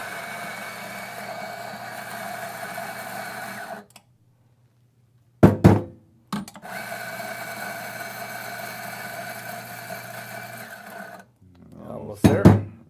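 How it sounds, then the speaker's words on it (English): A Ceado E37S coffee grinder grinds beans in two long, loud motor runs with a steady mechanical whine, broken by a silent gap and a few sharp knocks and clatters. "grind all the beans out."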